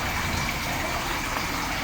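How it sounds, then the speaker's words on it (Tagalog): A shower of water spraying onto African catfish eggs in a hatchery, a loud, continuous hissing gush with no pauses and no talking. "lalagyan natin ng shower"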